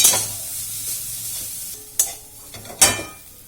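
Roasted coconut is stirred in a hot pan just after the gas is turned off, giving a soft sizzling hiss with a few scraping strokes and two sharp clinks of the spoon against the pan.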